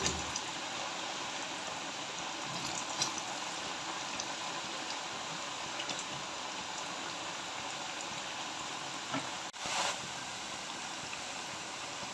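Spiced potato chips, cut from soaked and softened potatoes, fry in very hot oil over a high flame, giving a steady, even sizzle and bubbling hiss close by with one brief louder crackle near the end.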